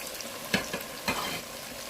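Taro root being stirred into hot oil with ground coriander and cumin in a pan, a soft low sizzle broken by a couple of brief scraping stirs.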